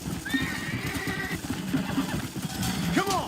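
A horse in the video game Red Dead Redemption whinnies in a shrill, wavering neigh, then lets out another short one, with hooves clip-clopping underneath at moderate volume.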